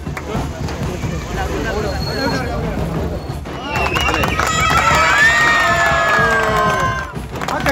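A large crowd celebrates at a World Cup football procession in Tirur, Kerala. Their lively hubbub of shouts and cheers grows louder and busier midway, with shrill whistle-like tones rising above the din.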